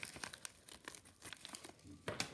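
Plastic netting being handled and cut for a dot art craft gives off soft, quick crinkling and rustling bursts, quiet and close, with a louder crackle near the end.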